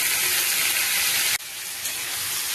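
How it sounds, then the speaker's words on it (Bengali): Onions fry with whole garam masala in a pan, giving a loud, dense, close sizzle that runs continuously, breaks briefly midway as if stirred, then carries on. "পেঁয়াজটাই শুধু ফ্রাই করেছি গোটা গরম মশলা দিয়ে"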